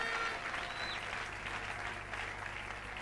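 A church congregation breaks into applause, a continuous, fairly even patter of many hands clapping, moderate in level and slightly reverberant, lasting a few seconds.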